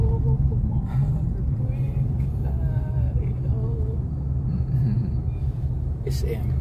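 Road traffic in the Philippines rumbles as a low, continuous wash of car and bus engines nearby, while people talk over it.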